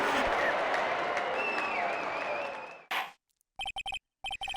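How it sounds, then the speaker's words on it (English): Courtroom crowd cheering in the video game Phoenix Wright: Ace Attorney – Justice For All, right after a not-guilty verdict: a dense, loud roar of cheering and applause that fades, a short burst, then clipped electronic blips. "Why are they cheering?"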